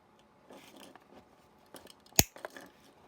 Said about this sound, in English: Let me get my wire cutters and just cut that.